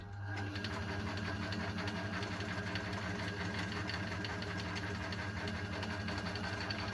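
The electric motor of a Hembrug metal shaper runs continuously close by, a steady humming drone with a rhythmic mechanical flutter and no pauses, heard alone.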